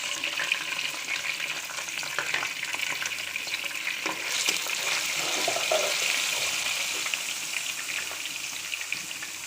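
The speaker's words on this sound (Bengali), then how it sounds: "এর মধ্যে আমি দিয়ে দিচ্ছি পেঁয়াজ বাটা" Onion paste added to a pan for chicken rezala fries with a continuous hissing sizzle, broken by occasional stirring scrapes and clinks of the spoon, steady and fairly close throughout.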